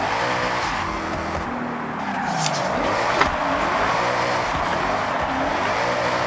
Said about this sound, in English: This drifts precisely well compared to what a normal Mustang drifts like